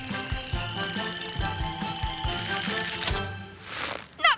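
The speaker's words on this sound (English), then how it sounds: "Tilly, let's use your winch to lower me down!" A cartoon tow truck's winch lowers with a steady ratcheting click, evenly paced mechanical ticks under a whirring tone, ending in a rising swoosh.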